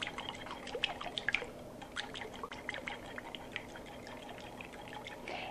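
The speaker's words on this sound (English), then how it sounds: "I'm going to put the coconut oil and the eggs in a measuring cup. And I'm going to whisk this together until it's all mixed nicely." Coconut oil and eggs are whisked in a measuring cup, a quiet, close series of wet, quick clicking and tapping strokes with a soft liquid swish.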